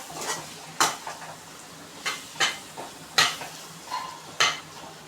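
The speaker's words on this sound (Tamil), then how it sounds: "இப்போ கரண்டி வச்சு நல்லா மிக்ஸ் பண்ணி விட்டுக்கலாம்." A ladle stirring vegetable Hakka noodles in a kadai, rhythmic metallic scrapes and clanks roughly every half second to second, close and clear, with no talking.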